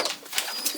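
Young racing pigeons coo briefly inside a loft, a soft, short burst of cooing set against steady, noisy loft background.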